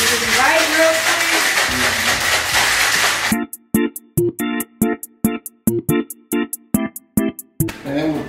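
A cocktail shaker full of ice is shaken for a Cinco de Mayo drink: after a few seconds of dense background noise come about a dozen rapid, sharp, rhythmic rattling bursts, loud and close.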